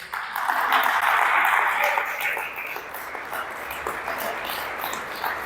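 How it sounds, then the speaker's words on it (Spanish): Congregation applauding during a Spanish-language church sermon, a moderate burst of clapping that peaks early and then settles into a lighter, sustained patter. "¿Puedes dar un aplauso a Jesús?"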